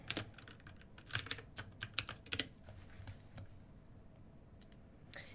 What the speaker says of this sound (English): This is the keyboard I use.